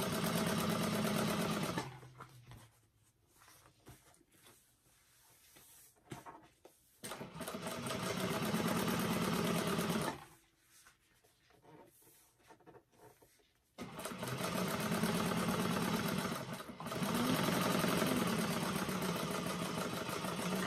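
A domestic sewing machine top stitches a bag panel in long steady bursts of rapid whirring, stopping and restarting with short quiet pauses between runs.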